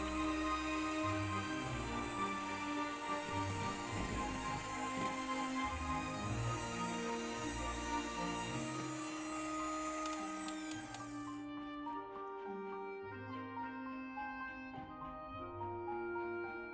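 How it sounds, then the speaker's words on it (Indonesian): Electric mixer whipping egg whites at high speed for a baked sponge cake, a steady, close motor whine that cuts out partway through, leaving quieter tones behind. "Selanjutnya, kita mixer putih telur sampai mengembang, pucat dan kaku dengan kecepatan tinggi ya."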